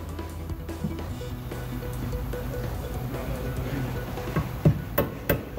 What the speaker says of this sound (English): use a rubber mallet so you don't mess up your pretty new parts